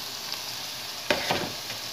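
Lamb pieces for kabsa sizzle in a hot pot with a steady frying hiss, broken by a couple of louder crackling bursts as the meat lands and settles.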